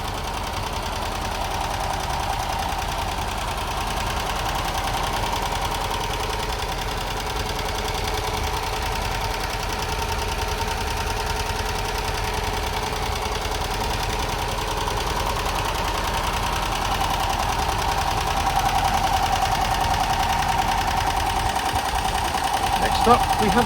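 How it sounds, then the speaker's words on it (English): A 1964 MGB roadster engine idling steadily with the bonnet open, a continuous mid-pitched mechanical hum with a faint rhythmic knock, close and even throughout. "Settles down to a nice idle."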